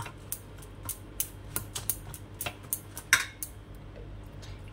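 Batter being mixed in a metal bowl while water is added little by little: steady clinks and scrapes of a utensil against the bowl in an irregular rhythm, close and fairly quiet, with no talking.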